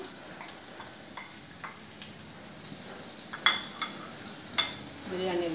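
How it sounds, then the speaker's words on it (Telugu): Onions frying in hot oil for a spicy chicken pulav give a continuous sizzle, with several sharp utensil clinks and scrapes in the second half. "ఆయిల్ కాగింది, మనం ఉల్లిపాయలు వేయించుకుందాం"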